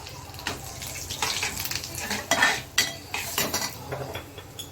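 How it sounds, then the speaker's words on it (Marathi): Peanut powder, chili masala, turmeric and salt are stirred in a pan for cluster bean curry, with close metallic scraping and clinks of a spoon against the pan in an uneven rhythm. "हे सगळं व्यवस्थित आपण परतवून घेणार आहोत"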